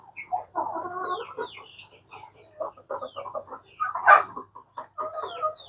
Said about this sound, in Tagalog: Yun na yung manok natin, oh.